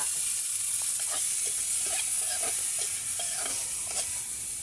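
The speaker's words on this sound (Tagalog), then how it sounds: "Lagyan natin sila ng konting suka." Dried salted fish frying in a pan with a splash of vinegar, giving a dense, constant crackling sizzle with steady hiss, close and uninterrupted with no talking.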